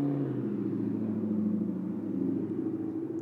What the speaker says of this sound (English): let's let this loud car pass by